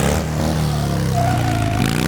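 A motorcycle engine roars loudly and continuously, a thick rumbling drone with a rough, gravelly edge that holds at a steady volume throughout.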